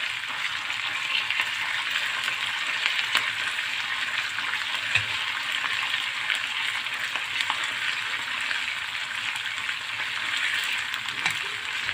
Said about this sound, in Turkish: İyicene salçamız boncuklaşana kadar şöyle hafif hafif karıştırıyoruz